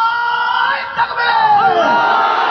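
A crowd at a memorial religious gathering roars a takbir chant in response to a call, a loud mass of voices swelling together, briefly dipping, then rising again.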